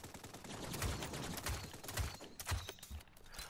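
Gunfire in the battle royale game Realm Royale: a dense run of overlapping shots and bursts at moderate loudness, with no talk over it.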